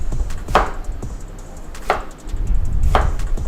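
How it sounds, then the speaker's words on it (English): A kitchen knife chops ingredients for Greek meatballs on a cutting board, with three crisp, loud strikes spaced about a second and a half apart over steady background noise. "We're chopping up"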